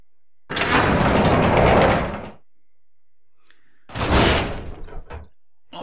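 A door opens inside the video game Resident Evil Zero: a loud heavy creak and thud lasting about two seconds, then a pause, then a second shorter mechanical rattle and clunk.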